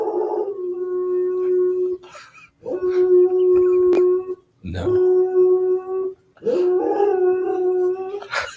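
A neighbour's dog howls loudly and close by in long, wavering sustained tones, four drawn-out howls separated by short pauses, with a brief spoken word between them.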